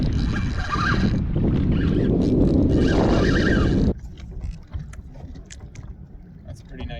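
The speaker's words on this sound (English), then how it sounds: "It's so windy out here. Wind is still blowing pretty hard." Strong gusty wind roars across the microphone on open water during kayak fishing, loud and buffeting for several seconds before dropping to a lighter rustle.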